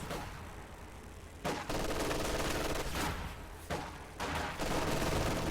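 Battle gunfire from a video game, sustained rumbling volleys and bursts that surge and drop away in waves, fairly faint and distant, with no voices.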